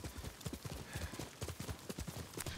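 A horse's hooves clip-clop at a steady trotting rhythm in the video game Ghost of Tsushima. The beats are close, even and continuous, with no speech over them.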